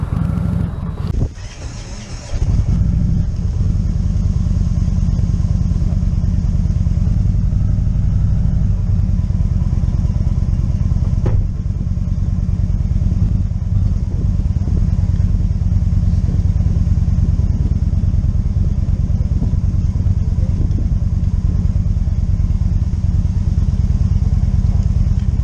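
A motorcycle engine starts outdoors on a cool, windy autumn morning and settles into a steady, loud idle with a deep rumble and light wind noise on the microphone.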